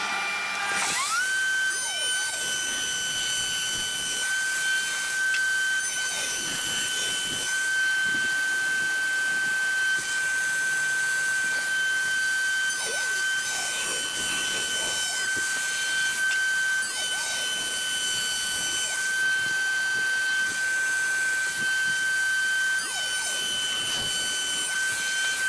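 A table router spins at high speed cutting 15 mm deep finger joints in bee box timber, a piercing whine with a steady tone and shifting, hissing cutting noise as the wood is fed through, close and continuous.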